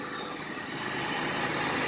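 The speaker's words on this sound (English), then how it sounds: "when you turn the air on, you want to make sure both of your fans are blowing" An older car's twin radiator cooling fans whir with the AC on, a steady broadband rushing hum close by with no pauses or talking.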